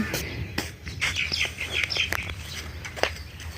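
Several birds chirp and tweet in short, bright bursts over a low steady rumble, with one sharper call near the end.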